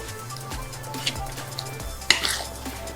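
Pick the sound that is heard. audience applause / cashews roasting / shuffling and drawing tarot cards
cashews roasting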